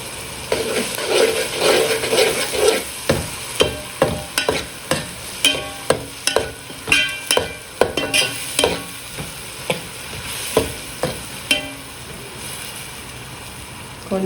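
Paste of four tomatoes sautéing for a Madurai-style fish curry, loud and close, with a rhythmic series of spoon scrapes roughly every half second over a continuous sizzle.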